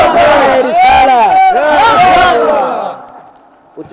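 A large crowd gathered at a religious sermon shouts religious slogans together in loud, unison, chant-like bursts, two strong swells that fade out into quieter room sound.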